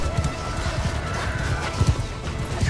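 Quick rhythmic hoofbeats of a horse in Mount & Blade II: Bannerlord, clattering steadily at a trot with a faint whinny and a busy mechanical game-like background.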